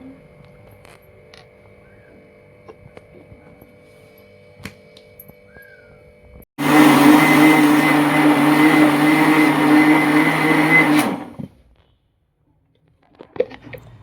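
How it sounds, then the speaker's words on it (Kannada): A loud, steady whirring motor of a mixer grinder blending homemade vanilla ice cream runs for about five seconds after quiet background, then stops abruptly. "ಈಗ ಮತ್ತೊಮ್ಮೆ ಮಿಕ್ಸಿ ಮಾಡಿದೆವಂದ್ರೆ ಐಸ್ ಕ್ರೀಮ ಭಾರಿ ಪಳ್ಳಗೆ ಭಾರಿ ಮಸ್ತಾಗೆ ಹಾಕತ್ತೆ ನೋಡ್ರಿ"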